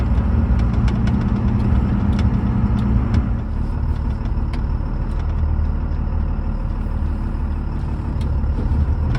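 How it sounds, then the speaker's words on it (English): A car engine idles and runs steadily while the vehicle backs into a parking spot beside a trailer, a loud continuous low rumble with faint clicks and no talk. "Now we're going to back into that parking spot right up next to that trailer."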